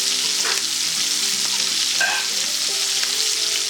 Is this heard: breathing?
no